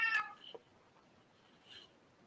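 A house cat gives a short meow up close at the start, followed by a faint second chirp-like call near the end in an otherwise quiet room.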